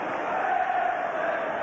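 A football crowd at the 1990 Liverpool versus Southampton match roars in a dense, loud, steady wash of voices during a short burst.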